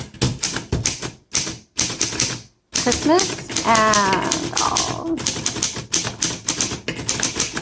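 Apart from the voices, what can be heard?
typing on a 1928 Underwood 4 bank antique typewriter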